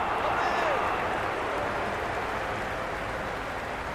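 Crowd noise at a cricket ground during a USA vs Namibia T20 World Cup match, a broad steady roar from the stands that swells briefly and then holds.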